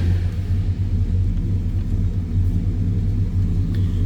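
A 1966 Dodge Charger with a 383 V8 and automatic transmission idles steadily, giving a loud, deep, continuous rumble close by, with no talking over it.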